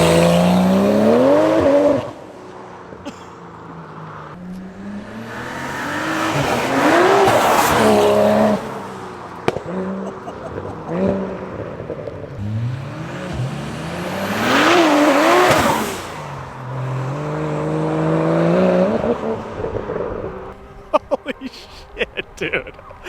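A tuned BMW with an N54 engine accelerates hard in repeated pulls, the engine note climbing through gears with loud rising whines, brief lifts between runs, and tire noise; people talk and exclaim over it.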